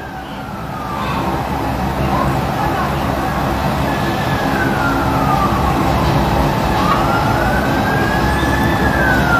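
A fire truck siren wails over heavy city traffic during a building fire in Cubao, Quezon City, its rising and falling tone sweeping slowly above a loud, rumbling street roar.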